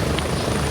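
A helicopter in Gray Zone Warfare sounds as a brief, dense, steady rotor-and-engine roar, loud and close, with no break.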